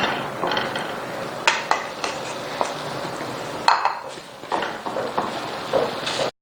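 Half a kilo of khoya stirred in a pan over a slow flame, a spoon scraping and clinking irregularly against the metal pan with sharp knocks between softer scraping, close and fairly loud.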